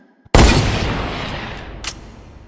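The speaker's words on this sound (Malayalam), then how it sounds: "അപ്പോൾ കാട്ടിൽ എവിടെയോ നിന്ന് ഒരു വെടിപൊട്ടുന്ന ശബ്ദം." A single loud gunshot crack rings out in an animated story, hitting suddenly after near silence and trailing off in a long, fading rumble of echo.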